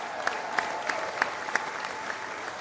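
An audience applauds at the FC Cincinnati MLS expansion announcement, with a handful of sharp, separate claps standing out over a steady wash of crowd noise.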